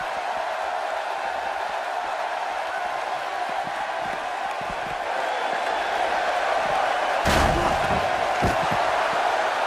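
A Toronto arena crowd in the WWE 2K18 wrestling game roars steadily with cheers throughout, swelling slightly near the end, where a sharp slam-like hit cuts through the noise.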